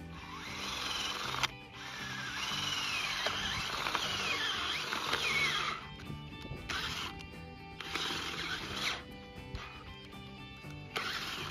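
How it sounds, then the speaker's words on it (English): A power drill bores into red clay soil around a buried cable, its motor whirring in long grinding bursts with short pauses between them. "First thing I'm gonna do is drill around my cable."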